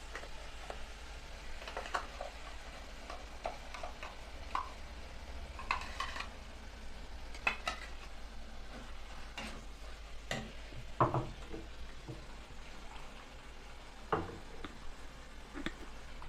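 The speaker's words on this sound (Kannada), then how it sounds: "ಇವಾಗ ಇದಕ್ಕೆ ನಾನು ಈ ಚಟ್ನಿ ಮಿಕ್ಸ್ ಮಾಡ್ತಾ ಇದ್ದೀನಿ" A spoon stirs ground chutney into capsicum palya in a pan, giving soft intermittent scrapes and clinks over a faint sizzle, quiet and close.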